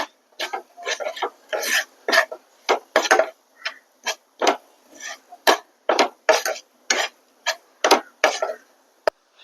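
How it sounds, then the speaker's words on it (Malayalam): Prawn thoran with grated coconut being stirred in a pan, a steady series of close, sharp scraping and tapping strokes of a spoon against the pan, about two per second, with no talk over them. "ഒന്നുകൂടെ ഇളക്കി കൊടുക്കാം."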